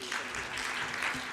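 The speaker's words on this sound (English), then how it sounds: "A round of applause for Mr." Applause from an audience at a gold industry conference in Singapore, a steady broadband patter of many hands clapping at moderate distance, brief and even throughout.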